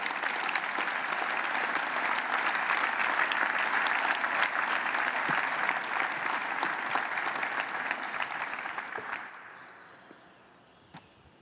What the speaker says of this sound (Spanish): Yo pido un aplauso para los fundadores de esta gran institución.